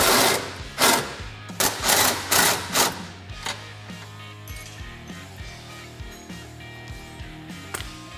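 An impact wrench on a Polaris Ranger XP1000 removing the A-arm hardware nuts, a series of short loud rattling bursts followed by quieter clicks and tapping of the hardware.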